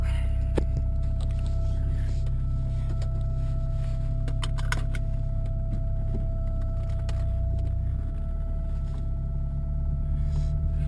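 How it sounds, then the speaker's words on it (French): A thin, steady whistle from the fuel pressure regulator sits above the constant rumble of an idling VW Corrado G60 engine, unchanging for the whole stretch, with faint clicks here and there. "c'est le régulateur de pression d'essence qui fait ce bruit là, ce petit sifflement"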